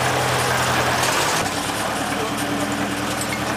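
A tractor-powered sugarcane crushing machine runs with a steady, loud low rumble and hum that shifts pitch slightly midway, filling the whole stretch without pause.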